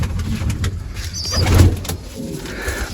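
Pigeons coo close up in low, throaty murmurs across a few seconds, with a faint higher chirp in between and steady background noise.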